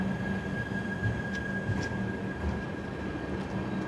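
Banaras–Anand Vihar Garib Rath express with new LHB coaches, a steady rumbling roll of wheels on track with a faint high whine, continuous and moderately loud, no voices.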